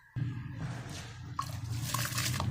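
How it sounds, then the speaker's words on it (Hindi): About 1 kg of rice is tipped into a pot of boiling water for chicken biryani, a sudden rushing splash followed by bubbling, sloshing water, close and continuous. "अब हम इसमें चावल डालते हैं"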